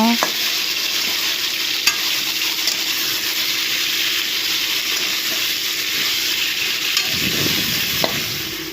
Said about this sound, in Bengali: আলু লাল করে ভাজা হয়ে গেল